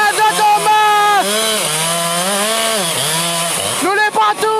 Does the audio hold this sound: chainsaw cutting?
yes